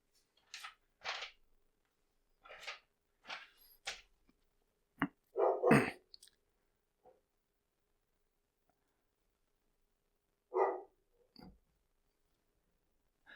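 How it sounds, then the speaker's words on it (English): A pet dog named Puppers lets out a handful of short, sharp barks spaced apart, some in quick pairs, against near-silence in a quiet room. "Not sure why, but Puppers is starting to bark."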